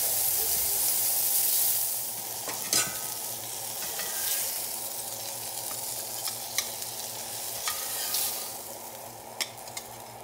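Homemade sausages fry at medium heat in a Birmingham Stove & Range cast iron skillet, giving a steady, close sizzle and hiss throughout with a few small pops and crackles and no talking.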